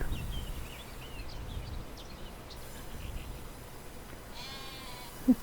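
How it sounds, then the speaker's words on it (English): Sheep in the Farming Simulator 25 video game bleat faintly against a quiet ambient background, with a few short calls over the stretch and a brief sharper sound near the end. "Sheep."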